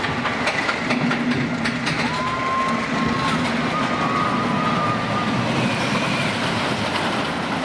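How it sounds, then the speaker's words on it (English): A roller coaster ride somewhere in Europe, heard as a steady loud rumble of wheels on track with rhythmic clattering and a few high whining tones, continuous throughout without voices. "This one, it is a roller coaster and it is somewhere in Europe as well."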